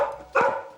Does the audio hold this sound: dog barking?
yes